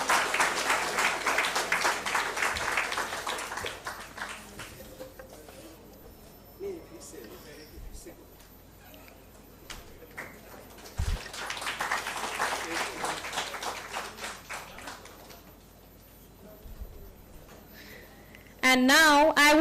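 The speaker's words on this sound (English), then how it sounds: "Can we please have a round of applause?" Audience applause swells twice, separated by a stretch of quieter talk, with a voice speaking again at the very end.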